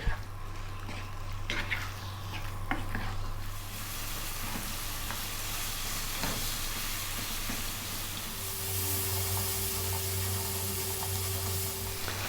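Beef liver pieces in a spiced masala mixture sizzle steadily in a hot pan, a continuous frying hiss with occasional spoon scrapes, while a low hum of a kitchen fan or burner runs underneath.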